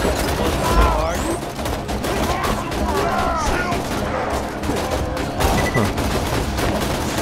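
Gunfire in Borderlands 2 as a deployed turret and other weapons shoot, a loud continuous barrage of overlapping shots and booms, with voices speaking over the din at times.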